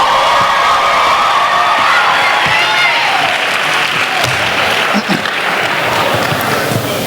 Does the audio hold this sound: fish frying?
no